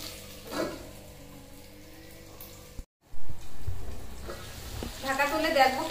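Potatoes, onions, ginger and garlic frying in oil in a pan for a village-style country chicken curry, a soft sizzle and stirring that grows louder after a brief pause, close by.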